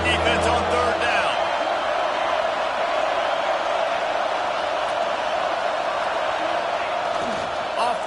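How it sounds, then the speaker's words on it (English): A football stadium crowd in a video game roars on third down with a dense, sustained wall of cheering and noise, and a commentator's voice is briefly heard at the start. "Decibels rising as the crowd gets behind this defense on third down."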